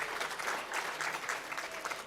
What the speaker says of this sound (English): So they really do deserve a nice round of applause.